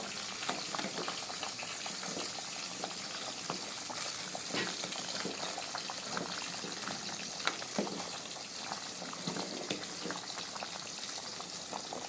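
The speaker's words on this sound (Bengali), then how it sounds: "এখন খিচুড়ি বলক এসে গিয়েছে, এখন নেড়ে দেব" Khichuri bubbling at a rolling boil in a pot on a village cooking fire on a rainy day, a steady dense hiss and burble with scattered small pops, continuous and moderately close.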